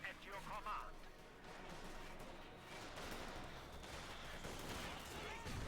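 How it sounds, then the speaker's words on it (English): MG42 machine gun fire in Company of Heroes 2 combat, rapid bursts of distant gunfire mixed with battle noise under steady commentary talk, fairly faint overall. "machine gun dealing with the rifle"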